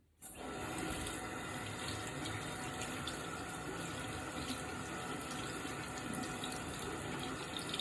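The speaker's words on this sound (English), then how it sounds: "I like to just kind of comb through the bristles like this as it rinses to kind of make sure the makeup has come out of it and that the water runs clear" Water runs steadily from a tap into a sink while a makeup brush is rinsed under it, a continuous close splashing hiss that starts abruptly and holds without talk.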